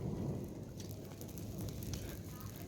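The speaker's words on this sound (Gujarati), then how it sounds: "ચાલુ થઈ ગયો હે વરસાદ" Heavy rain pouring down steadily in a dense, continuous roar across the whole short moment, with no break and no clear individual drops.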